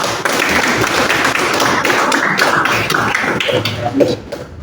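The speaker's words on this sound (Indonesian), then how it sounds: "Tepuk tangan." Students in a classroom clap their hands together, a loud, busy patter of overlapping claps that carries on for about four seconds and then thins out near the end.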